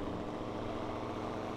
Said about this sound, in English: I like this tractor. Listen to that.